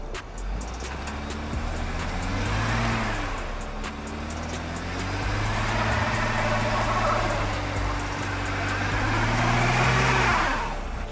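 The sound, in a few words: three-row SUV engine revving, wheels spinning in traction test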